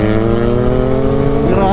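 Kawasaki ZX4RR sportbike engine pulling hard on freshly paved asphalt, a loud rising multi-toned roar heard up close for under two seconds. A rider's voice and wind noise mix in with the engine.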